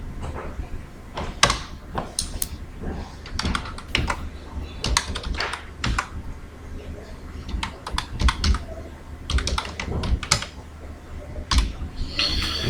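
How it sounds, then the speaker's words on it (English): Close, rapid typing on a computer keyboard while coding a Bootstrap landing page, irregular clusters of sharp key clacks running throughout, with occasional brief talking. "You see my keyboard yìí gan-an ara ló ń gbọ́ fúnra rẹ̀"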